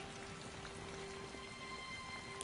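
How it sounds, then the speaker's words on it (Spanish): Steady rain falls in a film scene, a faint, even hiss of drops with a low hum underneath and no speech over it. "Me gusta caminar bajo la lluvia."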